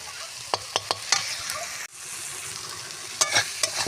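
Spices and chilli powder fry in a pan for egg curry, a steady sizzle punctuated by repeated clicks and scrapes of a spoon stirring against the metal.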